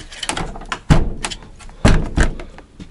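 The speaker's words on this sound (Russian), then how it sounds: "Да, дверь не закрывается" A wooden door on a freshly repaired log bathhouse bangs and thuds repeatedly as it is pushed against a frame it won't close into, with rattling knocks between the heavier slams.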